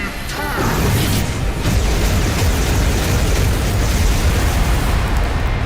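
Fire of Sinai skill attack from Shin Megami Tensei V Vengeance in the final battle against Metatron: a loud, sustained roaring blast of explosive rumble with crackling bursts, continuous for several seconds.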